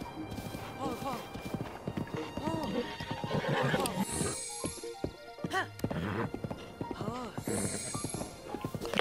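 A horse in The Legend of Zelda: Breath of the Wild neighs and whinnies repeatedly, with rising and falling calls over steady clip-clopping hooves, fairly loud and close, alongside game music and some voice.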